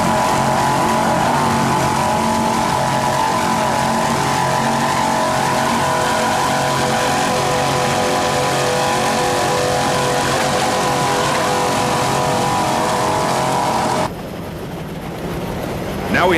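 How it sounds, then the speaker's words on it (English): Racing powerboat engines of the Triton Racing team at a 1993 grand prix, a loud continuous roar that holds steady and close for about fourteen seconds, then drops away abruptly into quieter background. "Those engines are running and sounding excellent."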